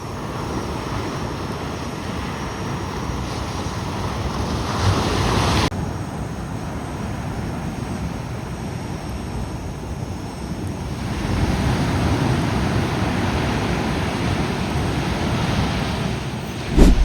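Steady wash of surf and wind on a secluded beach in Ecuador, a continuous broadband roar that swells slightly in places, with gusty wind noise on the microphone and a brief bump near the end.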